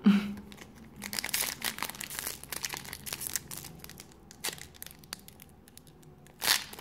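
Pokémon booster packs from the Appel des Légendes set being torn open by hand, with crinkly foil tearing and crumpling in bursts throughout and a louder rip near the end, close and otherwise without talk.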